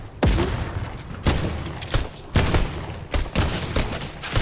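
A rocket launcher fires in the video game Fortnite, producing four or five loud booming blasts about a second apart, each with a rumbling tail.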